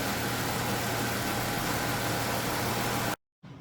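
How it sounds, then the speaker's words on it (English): Jeep Wrangler JK with the 3.6L engine idles steadily and close by after a thermostat replacement for code P0128, a constant broadband rumble that cuts out abruptly near the end, then resumes faintly. "I had to let the Jeep idle for quite a while"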